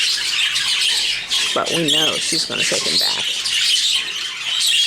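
Birds squawk harshly from breeding boxes, a burst of loud calls rising over someone talking steadily throughout.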